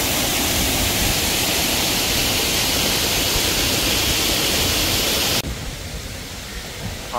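A dense, steady roar of a mountain valley waterfall rushes loudly and evenly, then drops off abruptly near the end to a softer, more distant wash.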